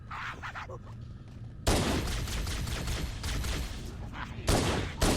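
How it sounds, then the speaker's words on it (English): In Halo: Combat Evolved, gunfire and a grenade blast go off against jackals, a dense, loud burst of shots and explosion noise that opens sharply and swells again near the end. "We're going to toss a grenade in here, take care of these jackals."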